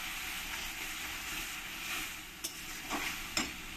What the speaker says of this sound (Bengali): এবার এই মশলার মধ্যে দিয়ে দেবো আমি টমেটো পেস্ট। টমেটো পেস্টটা দিয়ে মশলার সঙ্গে মিশিয়ে নেব।